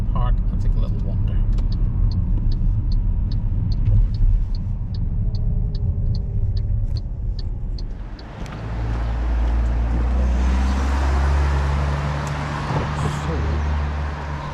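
A car pulls into a car park with a steady engine rumble and road noise. Partway through, the sound shifts to a broader, rougher roar.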